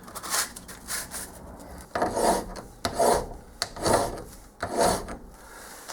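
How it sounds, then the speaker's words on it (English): A metal part from a lathe cross slide is rubbed back and forth on a flat sharpening stone, giving even rasping strokes in a regular rhythm of about one per second, close and clear. "Always amazing just how good a stone is at flattening something."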